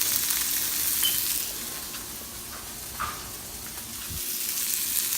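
Seasoned meat fries in a pan, giving a steady close sizzle with a hiss that dips midway and swells again, plus a few faint clinks.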